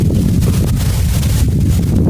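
Strong, gusty wind at a riverside fishing spot buffets the microphone in a continuous loud, low rumble under a cloudy, rain-threatening sky.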